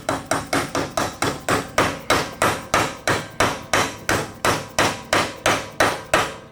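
Rapid, steady hammer blows drive a scooter crank seal installer onto the seal, about three strikes per second, sharp close metallic knocks repeating evenly with no talk.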